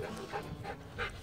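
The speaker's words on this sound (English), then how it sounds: "Dog." Dog panting in rapid, steady breaths with a few soft whimpery catches, close by and fairly quiet, heard during a road trip with no one talking.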